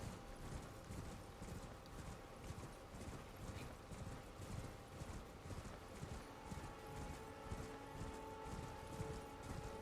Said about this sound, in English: Let's go ahead and horse ride this.